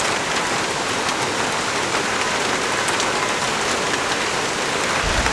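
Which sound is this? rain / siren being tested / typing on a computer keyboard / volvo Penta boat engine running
rain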